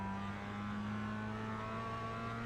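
A race car in the iRacing sim at Tsukuba, Mazda MX-5, Skip Barber or Spec Racer, pulls hard out of a corner in third gear. The engine note holds steady and continuous, near and loud, with no voices.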